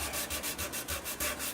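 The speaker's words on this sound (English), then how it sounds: "we'll give this a quick sanding here and vacuum it off" Quick back-and-forth scratchy strokes of sandpaper rubbing by hand on a wooden ukulele body, fairly quiet and close, in a steady rapid rhythm.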